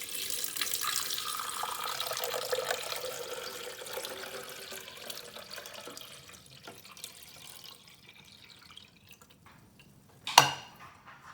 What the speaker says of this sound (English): we're going to fill this right to the brim now.